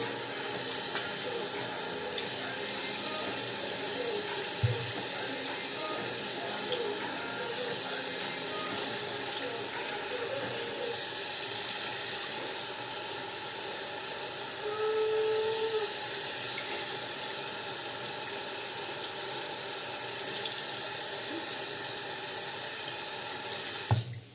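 Tap water runs steadily into a sink during a face rinse, a continuous close hiss and splash lasting throughout with a couple of small knocks, no talking.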